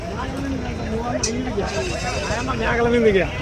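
Rams and goats at a sheep market bleating in long wavering calls close by, several overlapping near the end, over a busy crowd murmur with people talking nearby.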